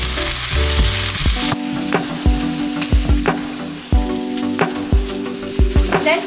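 Onions sizzling and frying in a hot pan, a steady loud crackle broken by repeated scraping taps of stirring, with no talk.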